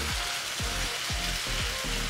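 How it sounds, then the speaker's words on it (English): Spinach sizzling in butter in a frying pan, a close, steady crackling fry with soft periodic stirring scrapes repeating roughly every half second, no talk. "Look at that, it's so sizzling."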